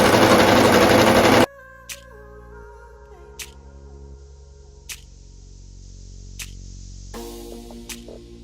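Sewing machine stitching a seam on skirt fabric, a steady mechanical whir with periodic sharp clicks, preceded by a brief burst of loud noise at the start.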